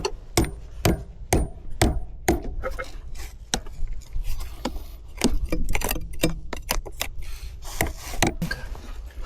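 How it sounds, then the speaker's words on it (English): Sharp hand-tool strikes chip away frozen mud caked on a CAT 18M3 motor grader, a close, irregular series of hard knocks and scrapes with short pauses between blows. "they started chiseling away the frozen mud with precision"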